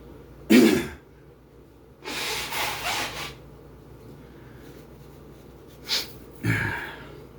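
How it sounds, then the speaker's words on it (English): Person blowing their nose during a break in two-handed lightsaber drills, several short, fairly close bursts of nasal blowing and sniffing separated by quiet pauses. "I gotta blow my nose anyways"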